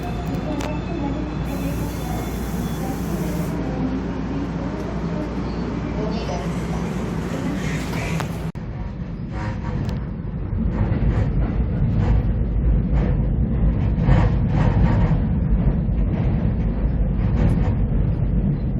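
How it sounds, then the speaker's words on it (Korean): An express train bound for Cheongnyangni rumbles into a station, a low steady roar that grows louder, with a faint chime early on and muffled voices around. "지금 청량리, 청량리 가는 급행열차가 들어오고 있습니다."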